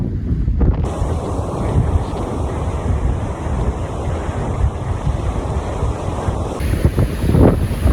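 Steady surf washing on a bay shore with gusty wind buffeting the microphone, a continuous loud roar with no voices.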